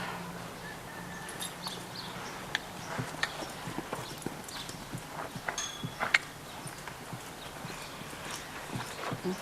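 A horse at a lope during a riding lesson, its hooves giving quick rhythmic clip-clop beats over a quiet outdoor background.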